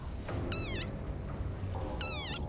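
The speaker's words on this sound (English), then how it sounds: "Like this desert rain frog." A desert rain frog lets out two separate high, squeaky calls, each brief and bending downward in pitch, with quiet pauses around them.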